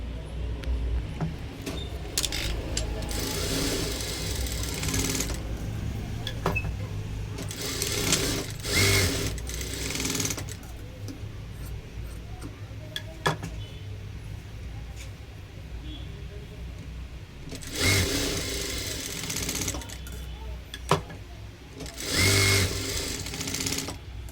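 Sewing machine stitching the shoulder seam of a blouse, running in repeated bursts with short pauses, close and clear, while someone talks over it at times.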